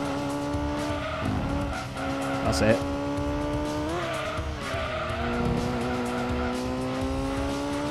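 Race car engine from Gran Turismo 2, a steady high whine that rises and bends through corners, with a brief tire squeal, under continuous close talk from a man.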